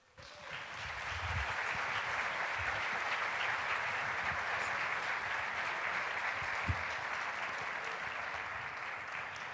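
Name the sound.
audience applause in a church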